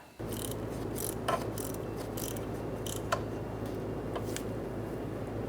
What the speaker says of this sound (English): snug it up, and torque it to 42 inch-pounds